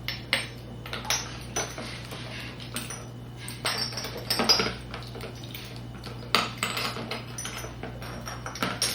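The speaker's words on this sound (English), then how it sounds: "I'm just going to drop what needs to be disinfected in here, which is all of my containers" Containers are dropped one after another into a disinfecting solution, giving a series of clattering, clinking knocks at close range over a steady low hum.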